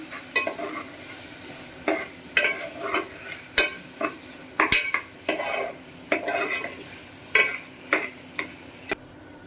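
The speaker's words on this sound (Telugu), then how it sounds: "టమాటాస్ కూడా లైట్గా మగ్గితే సరిపోతుంది" Two small tomatoes soften in a pan for bottle gourd curry, a utensil scraping and clacking in regular strokes against the pan over a low sizzle, close and alone without speech.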